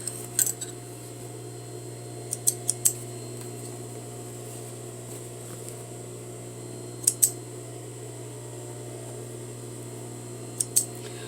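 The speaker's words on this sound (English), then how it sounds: "And then we're going to cut our threads" Scissors snip sewing threads at a sewing machine in a few sharp, close clicks, single and paired, over a quiet steady room hum.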